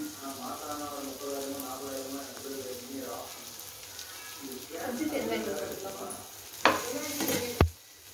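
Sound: stirring egg masala with tomato, turmeric and chilli powder frying

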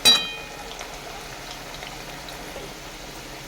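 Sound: potatoes deep-frying in oil

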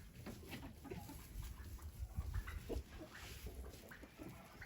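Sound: hen clucking

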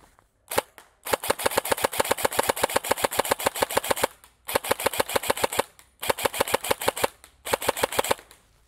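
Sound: airsoft rifle semi-automatic shots

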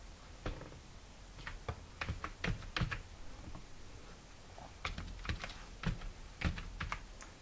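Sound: typing on a computer keyboard

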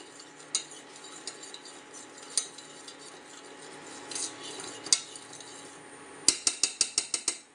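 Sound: stirring paste into shampoo to make homemade cleaner

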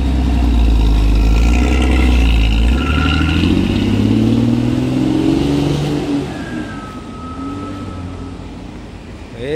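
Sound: racing bus engine revving

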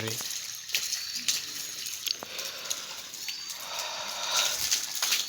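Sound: water being sprayed on house construction walls

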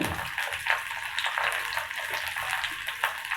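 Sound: onions sautéing in oil

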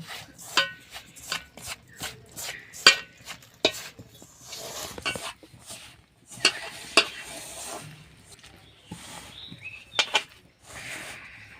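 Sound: mixing rice flour dough with warm water

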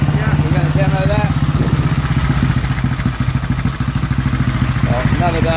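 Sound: 1927 Sunbeam Model 6 500cc motorcycle engine running

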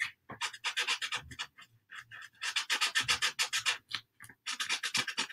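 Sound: white Posca paint pen writing letters

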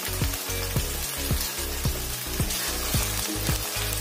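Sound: raw mango and ginger frying in oil

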